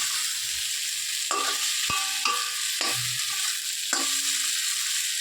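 A loud, steady sizzle of spices frying for a fish curry, with a few metallic scrapes and taps of a spoon stirring the pan.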